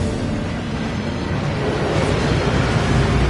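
A waterfall in Hogwarts Legacy sends up a steady, loud, dense rush of water noise that fills the whole moment without letup or voices.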